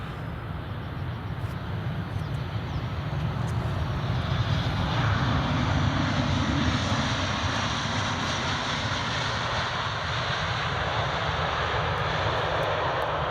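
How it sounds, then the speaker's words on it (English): A Boeing 737-800 fitted with scimitar winglets lands at Edinburgh Airport, a steady, loud engine roar that swells slightly partway through and holds as the jet rolls past nearby, with no talking. "They're gradually retrofitting all of their 737-800s to have scimitars, and this is one of them."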